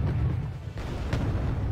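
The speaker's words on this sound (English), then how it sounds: "114mm Vickers cannon now unloading with the naval bombardment" In the Wargame: Red Dragon video game, a naval 114mm Vickers cannon bombardment produces a dense, low rumbling roll of explosions, continuous and moderately loud with a couple of sharper bursts.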